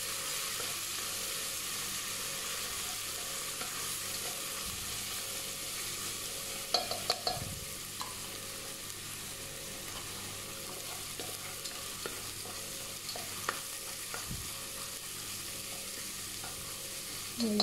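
Garlic paste frying in a pan while being stirred, a steady close sizzle with occasional scraping knocks of the utensil, no talking.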